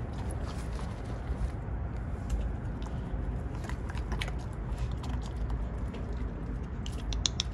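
A dog chews and crunches food close up, giving steady irregular clicking and crunching bites over a low background rumble.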